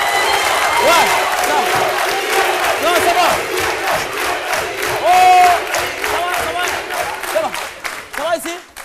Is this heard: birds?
no